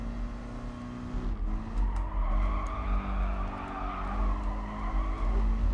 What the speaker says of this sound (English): And there's a nice note to the engine.